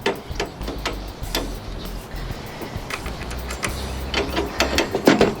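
Bolts being fitted on a modified KT196 go kart, with repeated close metallic clicks and ratcheting taps over a low, steady rumble, growing busier toward the end.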